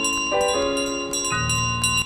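A golden bell clangs repeatedly as a goose carries it through a model village in Untitled Goose Game, bright ringing tones overlapping and sustaining in a steady, loud jangle with shifting pitch, no voices.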